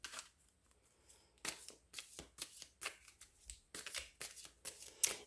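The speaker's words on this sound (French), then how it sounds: "Je vais aller piger quelques cartons d'abord." Cards are shuffled in a quiet room, close and soft, in a run of quick riffling bursts and taps over about five seconds.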